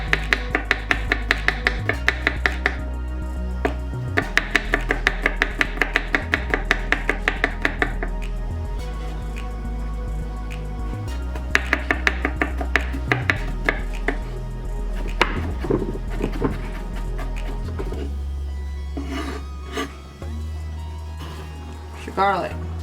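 A kitchen knife chopping garlic on a board for angel hair garlic pasta, bursts of rapid, even taps close by, separated by pauses, with a low buzz underneath and a person talking over parts.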